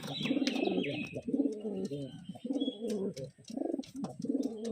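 Pigeons cooing close by in repeated low, throaty rolling coos, with a few faint chirps above and brief background noise between calls.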